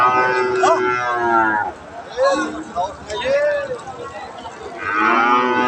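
Friesian and crossbred heifer calves moo loudly several times at a busy cattle market at Aftabganj haat, their long calls rising over people talking nearby.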